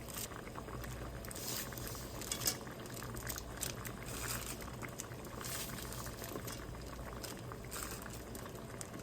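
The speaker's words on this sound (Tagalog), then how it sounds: "At kumukulo na nga." Water boiling hard in a pot for udon soup on a rainy morning, a steady dense bubbling roar that runs through the whole stretch with no talk over it.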